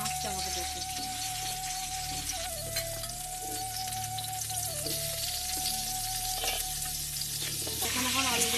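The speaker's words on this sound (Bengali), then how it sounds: "এখানে এখন আলুগুলো ভেজে নিই।" Potatoes frying in oil on a clay stove in a home kitchen, a steady close sizzle with occasional stirring clatter and a faint whistling tone, while people talk in the background.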